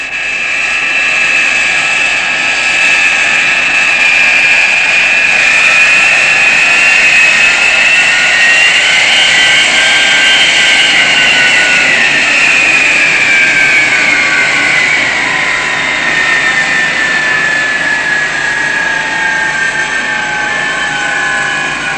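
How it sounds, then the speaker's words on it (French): Vertical jet engines on an aircraft run up in a 1968 French aviation drama, a loud, steady roar with a high whine that slowly rises and falls in pitch across the whole stretch, with no voices. "J'allume les réacteurs verticaux."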